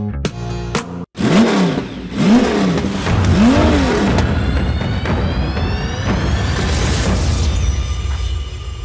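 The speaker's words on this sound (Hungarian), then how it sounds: "És hát a korábban már említett Mitsubishi Outlander Turbóval kezdünk" A Mitsubishi Outlander Turbo engine revs hard on a race track, loud and close, with repeated rising and falling revs through gear changes, then sustained high-revving acceleration and a whining pitch sweep.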